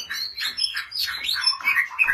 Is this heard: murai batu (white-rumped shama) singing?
yes